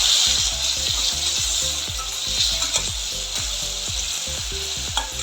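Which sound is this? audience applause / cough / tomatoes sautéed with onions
tomatoes sautéed with onions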